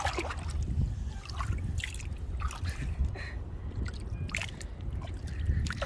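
Water splashes and trickles in uneven bursts, as if poured from a container, nearby and fairly loud, with no talking, during crab catching by hand.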